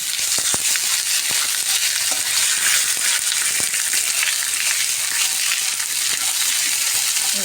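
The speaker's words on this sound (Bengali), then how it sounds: "জিরা গুঁড়ো কাশ্মীরি লঙ্কা গুঁড়ো দিয়ে মশলাটা একটু কষাবো" Ground cumin and Kashmiri chili powder masala frying in oil with dried red chilies, bay leaves and whole garam masala, a loud continuous sizzle with repeated sharp scraping and tapping of a spatula throughout, no speech.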